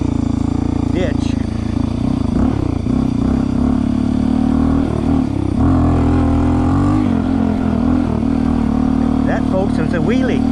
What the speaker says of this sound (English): That, folks, was a wheelie.